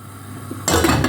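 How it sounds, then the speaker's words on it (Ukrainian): A pot of water with fish for soup set down on the stove over medium heat, a brief quiet lead-in and then a loud metallic clank and rattle of the pot against the burner. "Поставила я кастрюлю на вогонь"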